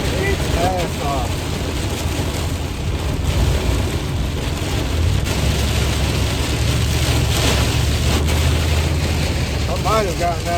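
Heavy rain pours down in a loud, constant roar with low rumbling underneath, and a voice speaks briefly over the downpour.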